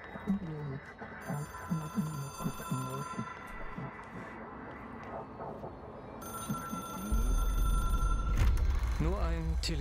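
An old telephone rings inside the game Control, a repeating electronic bell trill under a man's speech. Low game rumble swells toward the end.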